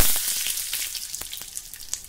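Curry leaves crackle and sizzle in hot tempering oil with mustard seeds, asafoetida and dried red chillies for a raw-mango lentil chutney, a steady close hiss broken by sharp pops.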